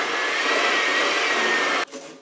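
An electric hand beater whirs at a steady high pitch through Texas sheet cake batter, loud and close, then cuts off abruptly near the end, leaving a faint clatter.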